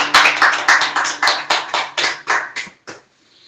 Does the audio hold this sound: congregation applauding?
yes